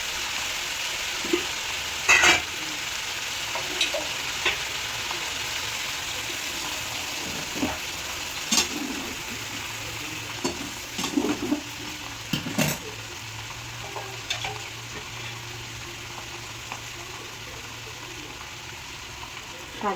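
Water spinach (kalmi greens) sizzles steadily in a pan after a splash of water is added, a continuous hiss broken by occasional clinks of a spatula against the pan.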